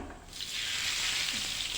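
Hot tempering oil with sesame seeds and curry leaves hisses and sizzles loudly as it is poured over khichu muthiya, a steady broad crackling hiss starting abruptly and continuing throughout.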